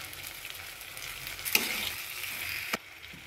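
Tomato pizza sauce sautéing in a pan gives a steady, soft sizzle with light stirring scrapes, including two sharper clicks of the spoon against the pan.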